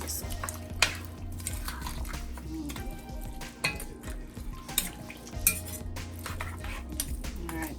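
Beef stew with a little ketchup is stirred in a pot, with a spoon clinking and scraping against the metal in irregular bursts over a low simmering bubble.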